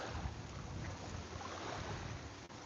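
Ocean waves washing onto the shore in a continuous broad rush, heard up close outdoors with some wind buffeting the microphone.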